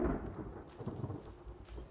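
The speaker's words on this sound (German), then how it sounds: "Heute regnet es wieder relativ oft" A thunderstorm with rain in the survival video game The Forest, low rolling thunder rumbles and a soft patter of rain, fairly quiet with no talking.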